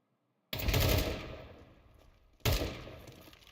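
Two sharp bursts of automatic gunfire spray in a Counter-Strike 2 esports match, each a sudden loud volley that trails off, with no talk over them.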